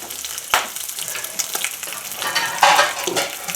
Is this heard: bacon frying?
yes